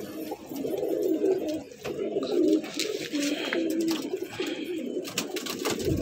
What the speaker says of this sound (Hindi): फरीदाबाद में कबूतर है भाई, ये सारे के सारे।